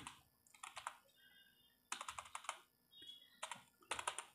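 Java code being typed on a computer keyboard: three close bursts of rapid key clicks separated by brief pauses, with no voice.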